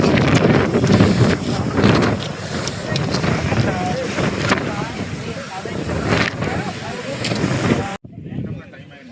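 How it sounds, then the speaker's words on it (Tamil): Strong wind on a hilltop buffets the microphone in loud, gusting roars that continue almost without a break, with people talking faintly beneath the rumble before it cuts off abruptly near the end. "ஸ்டில்லுன்னு காற்று வருது மக்களை."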